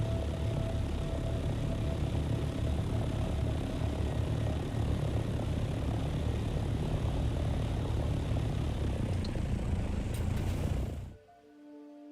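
A helicopter in the video game Dune drones with a steady, loud engine and rotor roar that holds unchanged for about eleven seconds, then cuts off abruptly into near silence.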